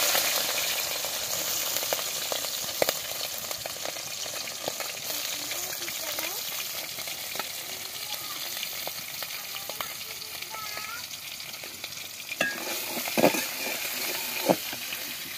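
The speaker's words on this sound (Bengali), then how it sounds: "এখন চিংড়ি মাছগুলো প্রথমে ভেজে নিচ্ছি" Shrimp frying in a pan over a steady, continuous sizzle, with occasional scrapes and clinks of a utensil stirring, close and moderately loud with no voices.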